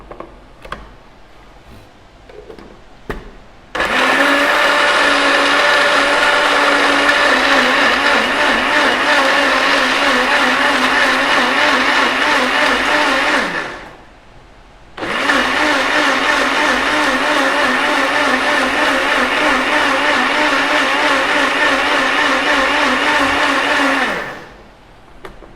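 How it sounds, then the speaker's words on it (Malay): Electric blender whirring at full speed while blending ingredients with a little water, a loud steady roar running for about ten seconds, stopping briefly, then running again for another ten seconds, with no talking. "Atuk letakkan sikit air untuk blend sekali lah"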